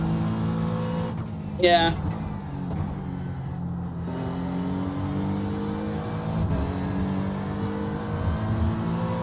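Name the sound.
GT3 race car engine in iRacing video game at Watkins Glen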